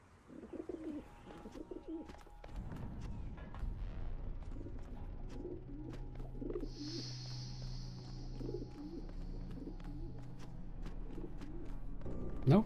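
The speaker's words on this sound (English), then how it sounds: "I have been hearing the pigeons the whole time." Pigeons cooing nearby in a game scene, repeated soft low coos in a slow rhythm over a faint ambient bed, with occasional chirps and clicks and no talk.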